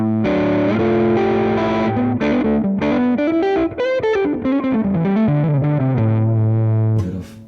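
Distorted electric guitar played through a REVV D20 amp with the bass dialed back and the treble cranked, a loud, sustained run of chords and single-note lines that rings out alone for several seconds.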